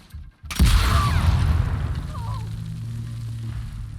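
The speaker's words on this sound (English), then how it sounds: "Yeah, that's a big explosion." A sudden loud explosion in The Last of Us Part II bursts out after a brief quiet, followed by a long rumbling, crackling decay that fades slowly.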